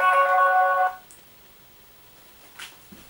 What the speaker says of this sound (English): Sorry, that was my phone.